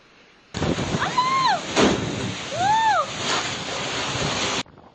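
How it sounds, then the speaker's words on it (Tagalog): Strong wind and rain from a monsoon storm and typhoon roar in a dense, loud rush of gusts, with people shouting over it in short bursts. "Halos walang maaninag dahil sa lakas ng hangin at ulang dala ng habagat at bagyong Inday"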